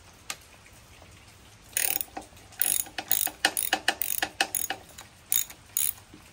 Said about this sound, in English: Next thing we gotta do is take the whole rocker cover bolts off. They're 10mm.